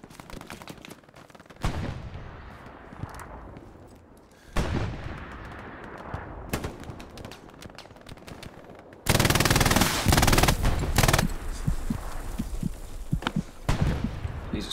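An MG42 machine gun fires in a World War II shooter on Omaha Beach: long, rapid, ripping bursts up close, with heavy explosions and other distant gunfire around them.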